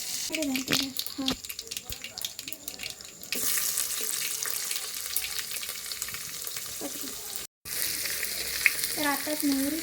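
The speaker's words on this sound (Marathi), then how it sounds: "मोहरी बरी तडतड आहे." Mustard seeds, oil and a little coconut spluttering in a hot pot for a tempering in a Konkan home kitchen, a steady close crackle and sizzle, with voices speaking over parts of it.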